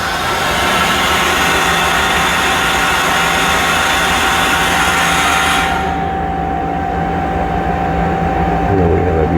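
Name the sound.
Mazak Smooth G CNC mill spindle milling square and chamfer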